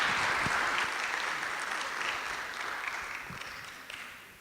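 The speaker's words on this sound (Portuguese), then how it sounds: "Uma salva de palmas." Audience applause at an arts event, a soft, distant wash of many hands clapping that slowly fades out with no voices over it.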